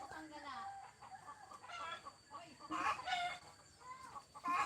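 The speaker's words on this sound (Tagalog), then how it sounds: "Nag-iitlogan ng mga manok dito, guys." Laying hens cluck busily nearby while a rooster crows in bursts, a lively morning barnyard chorus with no one speaking.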